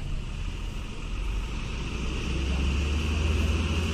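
Steady road traffic rumbles past near the scene of an overturned truck in Pargarutan, a continuous low engine drone of passing vehicles at moderate distance with no voices.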